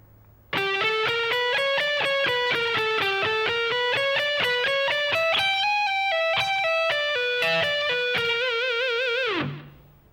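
Electric guitar plays a slow funk rock lick, a quick run of distinct picked and pulled-off notes with overdriven tone, closing on a vibrato-laden note before cutting off, loud and alone.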